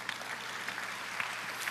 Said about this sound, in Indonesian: Tepuk tangan, tepuk tangan. Tepuk tangan panjang.